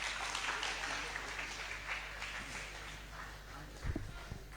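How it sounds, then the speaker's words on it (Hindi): An audience at a live Hindi poetry recital in Kishangarh gives moderate, continuous applause heard from a distance, with a few louder knocks near the end. "एक बार आपकी तालियां फिर एक बार उठें"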